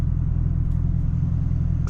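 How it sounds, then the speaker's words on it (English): Steady, loud low rumble of a stock Chevrolet Camaro ZL1 with a manual gearbox, engine and exhaust droning evenly from inside the cabin while cruising on a sunset drive, with a brief faint click near the end. "Boy, this car sound crazy, boy. This is a stock car."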